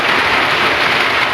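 Steady rain falls hard and close during charcoal making outdoors, a dense unbroken hiss of drops with no pauses and no talk.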